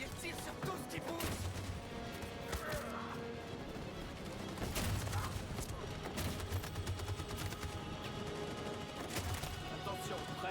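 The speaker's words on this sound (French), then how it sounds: "Cette saloperie de mitraillette tire sur tout ce qui bouge." Rapid machine-gun fire in the game Detroit: Become Human, with dense, rattling bursts and crashing impacts. The firing is steady but fairly distant, with faint voices mixed in now and then.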